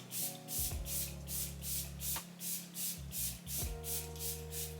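Sephora setting spray misted onto a face in a rapid run of short, soft hissing bursts, close and steady, with a faint electric hum underneath.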